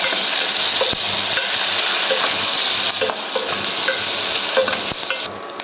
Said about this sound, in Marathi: हा कांदा उभा चिरून घेतला आहे तो येणार आहे आणि थोडासा आपण परतून घेऊया.